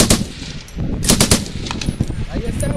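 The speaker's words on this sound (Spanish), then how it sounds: "vamos a probar la M240, una ametralladora ligera 762" A belt-fed M240 7.62 mm light machine gun fires several loud, sharp bursts outdoors at the Big Sandy range in Arizona, the rapid shots echoing between bursts.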